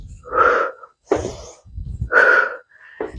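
Forceful, breathy exhales during a home cardio and strength workout, four sharp puffs in a steady rhythm, loud and close with no talking in between.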